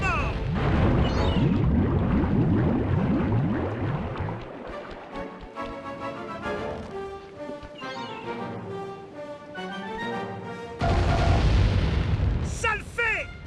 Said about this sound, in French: Canon de la mort!